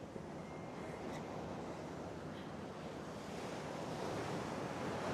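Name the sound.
ocean waves at Laguna Beach, California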